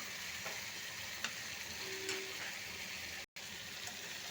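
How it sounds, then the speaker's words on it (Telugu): Prawns and cashews fry in a pan on a low flame and get stirred, making a steady faint sizzle with occasional light scrapes and clicks and a brief dropout near the end. "ఒక ఫిఫ్టీన్ మినిట్స్ ఇలాగా వేపుకుంటూ ఉండాలి అడిగట్టకుండా చిన్న ఫ్లేమ్లో పెట్టుకొని ఇలా తిప్పుకుంటూ ఉండాలి"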